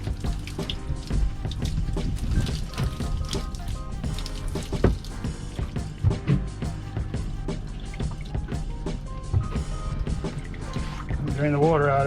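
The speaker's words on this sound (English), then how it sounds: "drain the water out of it." Water draining out of a Seawater Pro water maker housing on a boat in the Bahamas, running and splashing close by under music and talk.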